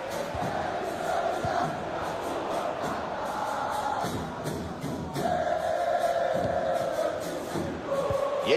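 Stadium crowd at a Club World Cup third-place football match between Al Ahly and Flamengo, chanting and singing in a steady, dense roar that fills the whole stretch with no break.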